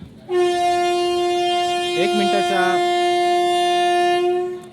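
A Virar–Valsad passenger train sounds a long, steady horn blast close by as it pulls away from a station, and a voice speaks briefly partway through.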